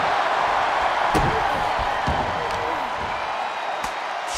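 A wrestler slammed to the mat by a half and half suplex in an Intercontinental Championship contender match, a sharp thud standing out against steady arena crowd noise, with a few more impacts following.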